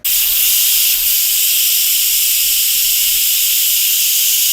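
Loud, continuous hissing of steam venting under pressure from an Instant Pot pressure cooker on quick release, starting abruptly and holding steady without pause, close by.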